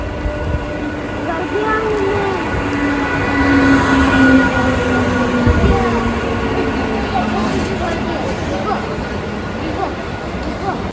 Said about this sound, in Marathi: चला गाईज ट्रेन आलेली आहे.